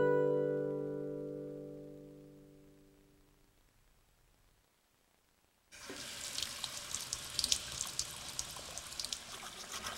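Water gushes steadily from a tap, loud and close, filling the second half after a fading tonal hum and a brief near-silence.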